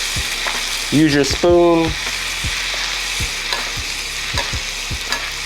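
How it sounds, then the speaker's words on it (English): Salmon sizzling in butter in a skillet, a steady frying hiss broken by the clinks of a spoon basting it, while a voice speaks briefly near the start. "We're gonna baste the salmon in that butter"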